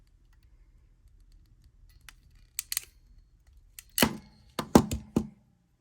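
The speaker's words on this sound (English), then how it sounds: "So I will snip it." Cutters snip a piece to length during a small assembly, giving a few sharp close clicks and snaps after near silence, with no talk.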